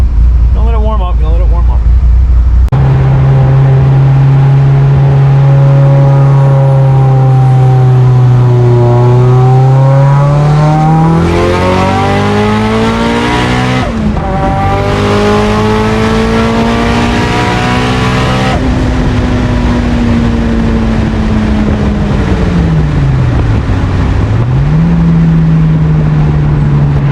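A Mitsubishi Eclipse GSX fitted with a big 6870 turbo is heard up close. The engine starts, idles low and rough, then rises and falls through several rev sweeps before dipping and catching again during warm-up.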